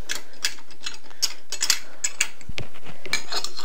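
A wrench spins to tighten bolts while assembling an Atomstack A5 M50 Pro laser engraver, giving a run of quick close ratcheting clicks and metal ticks, with a firmer clatter partway through.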